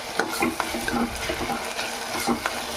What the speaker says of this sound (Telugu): బాగా గరిట పెట్టి తిప్పుకుందాం. మగ్గనిద్దామండి.